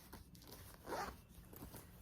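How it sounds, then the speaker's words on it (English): A zipper on a small pouch at the top of a Myra wallet is pulled once in a quick, quiet rasp, close up and faint, with no speech. "You've also got a little zipper pouch right here at the top"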